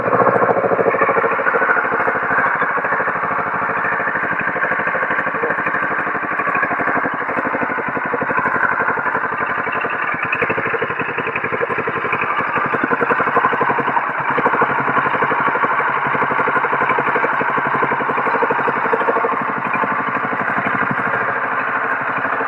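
A 2017 Kawasaki Ninja 650 motorcycle idles steadily after an oil change, producing a constant close-up engine drone with an even, unbroken rumble that holds for the whole stretch.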